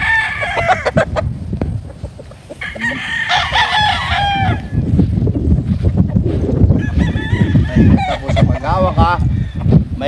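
Roosters crow repeatedly, loud and close, over a busy background of chickens clucking and squawking on a farm, with a person talking briefly.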